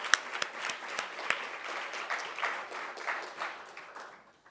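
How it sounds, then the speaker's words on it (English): Audience applause for an event's presenting sponsor at an evening summer talk series, a steady patter of many hands clapping at moderate volume for several seconds, then fading out near the end. "So let's give Toby a round of applause."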